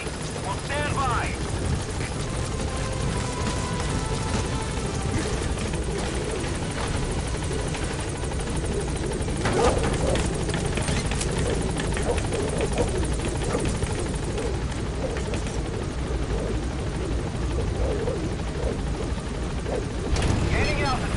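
Helicopter at a landing zone in Metal Gear Solid 5 gives a loud, steady rotor and engine roar that holds throughout, with a radio voice speaking over it.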